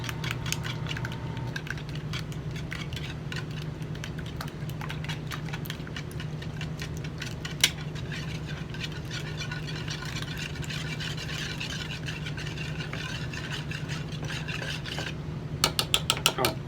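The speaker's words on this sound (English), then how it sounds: "And here we are scrambling, beating, pulverizing, Grounding, as you said. grounding the eggs." An electric beater whirs steadily as it scrambles eggs in a bowl for Lithuanian kugeli, a constant motor hum with scraping and clicking throughout and a few sharp knocks near the end.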